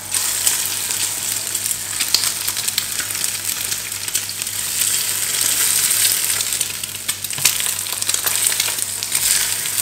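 Eggs seasoned with pepper frying on a tray or pan for a full English breakfast, a loud continuous sizzle with a few scraping knocks as they are flipped.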